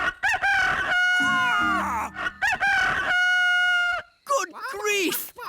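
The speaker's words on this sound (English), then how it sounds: "What are those chickens doing here?" Chickens cluck and a rooster crows loudly several times in close succession, near and clear.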